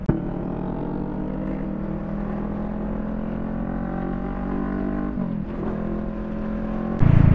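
A car cruises along the Skyway elevated expressway under a speed limit, a steady engine and road drone running near and continuous, with a brief shift around five seconds and a louder surge at the very end.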